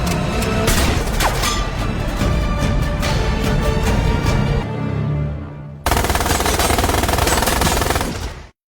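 Gunfire from a gangster film, loud dense machine-gun bursts in continuous rapid fire, a short drop in the middle, then another sustained volley before it cuts off abruptly.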